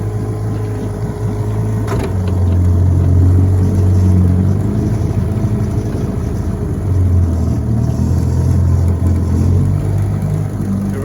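A 1958 Johnson 7.5 HP outboard motor runs steadily on a lake, a loud, continuous close-up engine drone with slight shifts in pitch and no speech.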